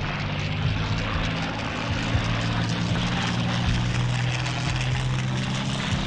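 Enemy aircraft engines in the Combat Wings video game, a dense, continuous propeller drone with a steady low throb, loud and unbroken for the whole stretch, with no talk.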